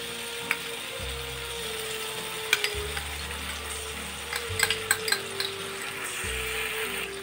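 A soy chilli sauce mixture with tomato ketchup, Kashmiri chilli powder and sugar is stirred in a pan, with a steady sizzle and scattered scraping clicks over low background music.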